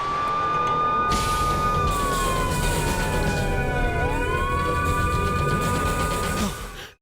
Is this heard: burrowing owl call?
no